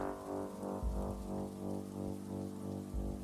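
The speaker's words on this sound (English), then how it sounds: "Let's wander out in the rain, shall we?" Steady rain falling in the video game Lovecraft Country, a dense continuous wash of drops on surfaces, moderately loud with soft low rumbles underneath and no talk.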